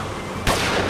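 Enemy gunfire in the game Lost Horizon: a loud, sharp shot bursts in midway after a quieter stretch, followed by a sustained rattling barrage.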